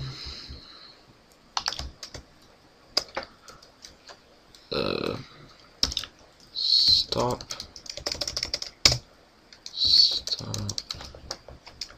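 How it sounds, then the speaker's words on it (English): Computer keyboard typing in bursts of quick clicks with pauses between, close and fairly loud, while someone talks in between the keystrokes. "I cannot type today."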